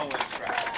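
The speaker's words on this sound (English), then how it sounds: "You can hear the applause." Spectators applauding at a women's curling final on sheet B, a short burst of crowd clapping and cheering mixed with commentary-level talk in the arena.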